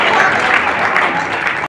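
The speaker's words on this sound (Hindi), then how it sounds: "तालियां कमजोर हैं आपकी दोस्तों" Audience applause at a poetry gathering, a loud, dense burst of clapping from a crowd, close and steady for under two seconds before cutting off abruptly.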